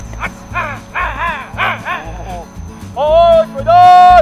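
A military working dog barks repeatedly and close during an attack demonstration, a quick run of sharp barks followed by louder, drawn-out yelps and whines, with voices of people mixed in.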